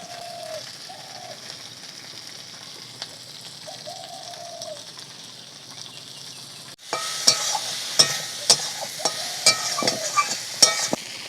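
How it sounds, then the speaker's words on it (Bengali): Okra fried in hot oil in a wok outdoors, with doves cooing softly at first; then a loud, close sizzle bursts in, punctuated by repeated scraping clicks of stirring. "প্রথমে এই যে ভেন্ডিগুলোকে একটু ভেজে নেওয়া হচ্ছে"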